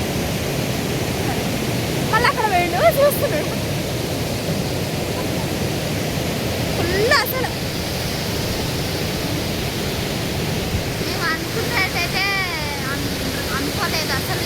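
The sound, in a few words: rushing water flowing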